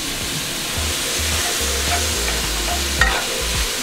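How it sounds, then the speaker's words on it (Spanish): Onion and pepper frying in a pot for a seafood cazuela, giving a loud, dense, continuous sizzle with low scraping stirs beneath it and a small clink near the end, close by and with no talking. "Vamos a poner el pimiento. Y vamos a refreír un poco."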